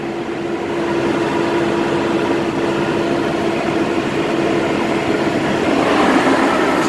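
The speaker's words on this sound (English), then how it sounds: "This engine sounds great." Engine of a 2007 International 4200 flatbed truck idling, a loud, steady low rumble with a constant droning hum, unbroken and close.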